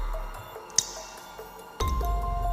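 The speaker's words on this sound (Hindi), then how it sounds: "उसके चारों ओर पानी की बूंदें टपकने की आवाज गूंज रही थी।" A few sparse, faint water drips plink in a quiet, hollow cave, followed by a low rumble.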